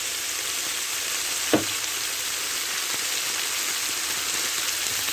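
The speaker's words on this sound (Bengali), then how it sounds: "আমি মাগুর মাছটা আজ ভেজে নিইনি মাংস মতো কষিয়ে ভুনা করব" Magur catfish cooks in oil in a pan with a dense, continuous sizzle like steady rain, broken once by a brief clink, with no voices.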